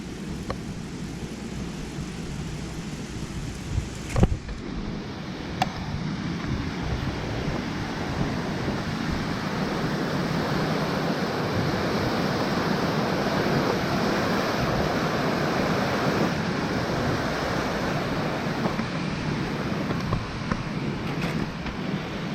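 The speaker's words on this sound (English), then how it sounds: "Hopefully you could hear that rushing water." Rushing creek water on a foggy trail at Cottonwood Creek makes a steady, broad wash of noise that carries on for the whole stretch, fairly quiet and unbroken, with a few faint knocks and no voices.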